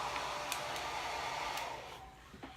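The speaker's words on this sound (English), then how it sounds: "we're just going to use my hair dryer" A hair dryer blows steadily to dry chalk paste on a craft piece, a close, continuous whooshing drone that eases slightly near the end, with no talking.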